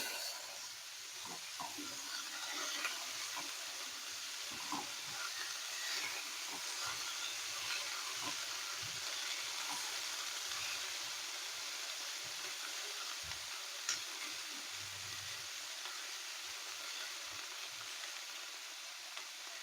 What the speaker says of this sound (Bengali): 1 মিনিট পর আমি একটু নেড়ে দিচ্ছি।